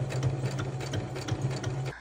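Sewing machine stitching a shirt, a steady close mechanical whirr with a rapid regular needle rhythm running continuously, then stopping just before the end.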